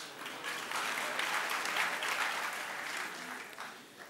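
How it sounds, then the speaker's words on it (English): Members of South Africa's parliament applaud during the 2010 budget speech, a soft, moderately distant patter of many hands that swells briefly and holds steady for a few seconds. "I thought you'll applaud for that."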